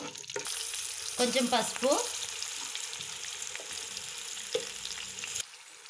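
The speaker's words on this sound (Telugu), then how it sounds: "ఇది కొంచెం ఫ్రై కానివ్వాలి." Green chillies and curry leaves sizzle and fry in hot oil in a pan while cooking Hyderabadi dum biryani and mirchi ka salan, a steady close crackle that runs throughout, with a brief spoken phrase near the start.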